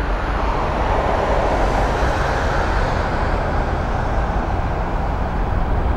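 Boeing 747 jet engines apply thrust while taxiing, a loud, steady broadband roar with a low rumble that stays constant throughout, with no talking.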